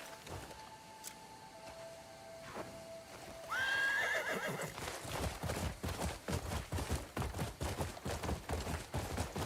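A horse whinnies loudly in the video game Crimson Desert, then hooves clatter in a fast, steady galloping rhythm that continues to the end, with no talking.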